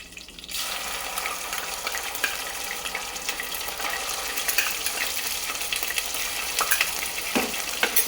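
Ginger garlic paste fries in a pan for a khichdi meal, a steady close sizzle with crackling bursts and a few spoon taps near the end.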